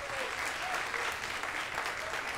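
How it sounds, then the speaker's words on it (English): Steady applause from an audience, a dense wash of clapping that holds at an even level throughout. "I want to give a big round of applause"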